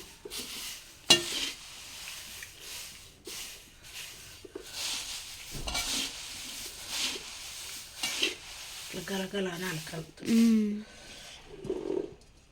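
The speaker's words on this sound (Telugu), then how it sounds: "అంత మంచిగా ఫ్రై అవ్వాలి అటుకులు అప్పుడైతేనే మంచిగా ఉంటాయి" Flattened rice (poha) for a crunchy mixture snack fries in a pan while being stirred slowly, giving a soft sizzle with scraping stirs throughout and a brief voice toward the end.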